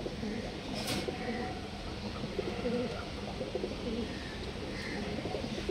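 Pigeons coo softly and repeatedly at a pigeon loft, with low, rolling calls overlapping continuously across the clip and no talking.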